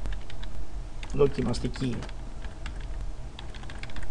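A comment being typed on a computer keyboard, heard as a steady patter of fairly close key clicks, with someone speaking Greek briefly over the keystrokes.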